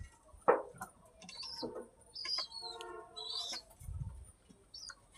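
Pigeons gather for their morning feed, making soft scattered pecking, fluttering and scratching sounds, with a few faint chirps and a brief low thump, all quiet and close with no talking.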